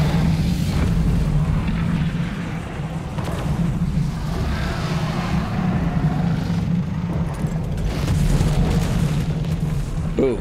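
Rockets fired at the King Titan boss in a video game make continuous rumbling booms and explosive bursts under a dense, loud game soundtrack.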